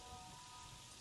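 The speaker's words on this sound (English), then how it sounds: "It's a thunderstorm. We're not hanging out up here." Thunderstorm rain in the video game Terraria patters as a steady, faint wash of falling drops for about a second, with no voices over it.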